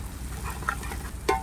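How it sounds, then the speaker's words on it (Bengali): Chicken pieces frying lightly in a pan, a soft steady sizzle with a faint stir or scrape, close and alone. "এটা হালকা করে ভেজে নেবো, হালকা লাল।"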